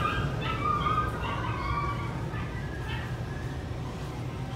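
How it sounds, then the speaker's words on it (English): A mini goldendoodle puppy at a grooming appointment whines and yips in high, wavering cries over a steady low rumble, with people talking faintly in the background. "that's our dog in there, making a hissy fit"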